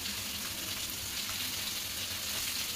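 Spices with onion, garlic paste, a little water, salt, turmeric and chili powder fry in a pan, giving a steady, even sizzle at close range without any speech.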